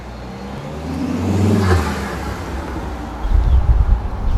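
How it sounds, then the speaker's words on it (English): Volvo P1 fitted with an Elevate intake and factory recirculation blow-off valve: engine revs rise to a whooshing peak, then a brief release hiss before a low rumble returns, close and clear with no talk. "So even with the factory recirculation slash blow off valve as they're known, you still get that awesome sound."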